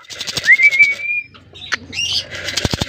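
Pigeons nearby at a show-bird event: a thin whistled call, soft cooing, and bursts of wing flapping toward the end, with no voices.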